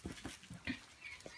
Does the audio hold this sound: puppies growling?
yes